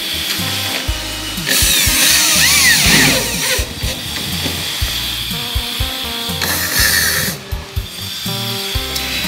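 A power drill bores screw holes through polycarbonate roofing sheet, whining in close, loud bursts with rising and falling pitch, separated by scraping and handling noises.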